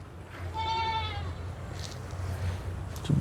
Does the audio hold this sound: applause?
no